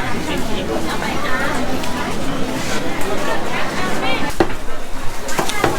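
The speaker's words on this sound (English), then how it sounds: "The guy is just chopping fish here." Repeated blunt chopping knocks ring out as fish is chopped at a fish market in Bangkok's Chinatown, amid a busy crowd with chatter and voices all around.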